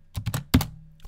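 Quick keystrokes on a computer keyboard entering a Linux bash command, several light taps followed by a firmer thunk like the Enter key and one last soft tap, close and clear with no talking.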